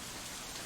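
Heavy rain in the visual novel game Katawa Shoujo, a steady wash of downpour hiss with no breaks, alone and fairly quiet.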